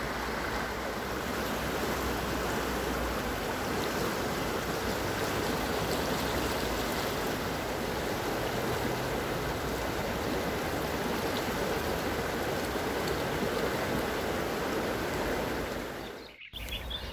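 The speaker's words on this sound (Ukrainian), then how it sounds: "а ось водичка, яка тече з-під явора" Water flowing steadily from beneath a sycamore tree, a continuous rushing stream heard close and loud, broken by a brief cut near the end.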